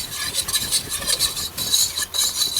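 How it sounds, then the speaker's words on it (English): A whisk scrapes and swishes rapidly through a flour and butter roux cooking in a pan, a close, steady rasping stir with a faint sizzle underneath and brief pauses between strokes. "Give it a little whisk."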